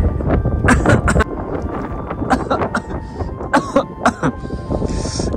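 Several short, harsh coughs and throat-clearing bursts come close to the microphone, spread unevenly across the clip over a steady rush of cold wind on a high mountain road at about 15,000 ft near Kaza, Spiti.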